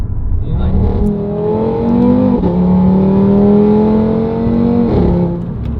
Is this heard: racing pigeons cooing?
no